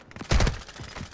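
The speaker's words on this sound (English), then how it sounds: "They're shooting at me." Gunfire in the video game Warzone 2: a short, loud burst of shots rings out near the middle, followed by fainter scattered pops.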